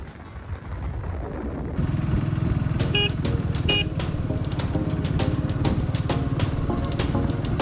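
A Scrambler 400x motorcycle rides hilly roads, its engine droning steadily up close with a low throbbing rumble and wind noise throughout, occasional brief clicks or gear changes mixed in.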